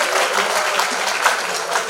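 A crowd at a valedictory ceremony for an innovation showcase event applauds and cheers, with dense, steady clapping filling the hall for two seconds without pause.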